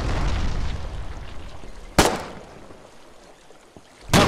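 Artillery shells burst in the Foxhole war game, two sharp booming impacts about two seconds apart over a rumbling battlefield backdrop, loud and close.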